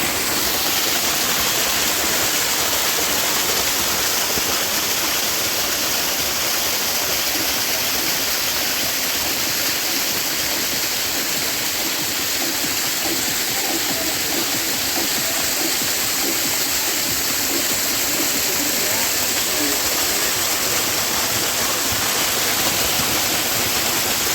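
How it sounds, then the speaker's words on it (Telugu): A loud, steady roar of a monsoon-fed waterfall near a quarry fills the whole stretch, constant rushing water with no pauses and no voices. "ఓన్లీ వర్షాలు పడ్డప్పుడు మాత్రమే ఈ వాటర్ ఫ్లో పైనుండి జలపాతాలు ఉంటాయి"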